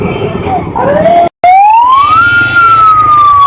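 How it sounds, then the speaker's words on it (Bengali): An ambulance siren on Hospital Road in Maijdee, Noakhali, very loud and close, wailing upward in rising sweeps with a brief cut in the middle, traffic noise beneath it. "অ্যাম্বুলেন্সের শব্দ শুনতে পাচ্ছি"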